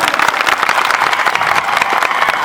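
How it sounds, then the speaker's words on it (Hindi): Loud, dense applause from a large outdoor crowd at a tribal day rally in Alirajpur, a steady wash of clapping that holds unbroken throughout. "एक बार जोरदार तालियां"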